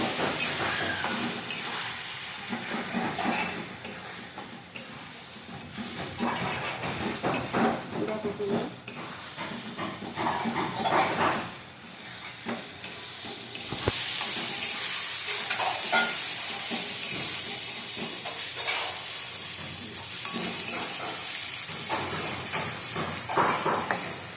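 Chicken with Kashmiri chili powder frying in oil for chicken kosha, a steady loud sizzle and hiss with repeated stirring scrapes throughout, close and continuous, with no voice over it.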